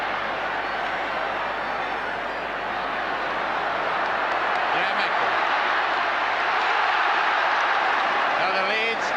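A large stadium crowd of Leeds rugby league fans at the 1978 Challenge Cup Final against St Helens roars and cheers in a steady, dense wash that swells slightly, with some whistles.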